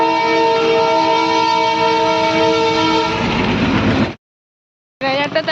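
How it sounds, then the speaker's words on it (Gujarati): A loud, close train horn blares for several seconds over the heavy rumble of a passing train, cuts off abruptly, then sounds again. "ટ્રેન આવી ગઈ."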